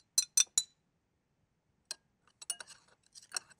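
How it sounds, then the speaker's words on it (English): Spice rub of ground cumin, coriander, onion powder and garlic powder stirred in a glass bowl, giving three quick clinks of a utensil against glass, then a pause and a looser run of small scraping taps and clinks. "A quick stir."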